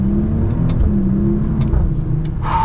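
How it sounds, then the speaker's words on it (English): A 2021 Maserati Ghibli S GranSport under full acceleration in manual mode, a loud steady engine drone heard from inside the car, rising smoothly with a quick shift near the end. "let's get kind of like our full-blown acceleration here in the manual mode"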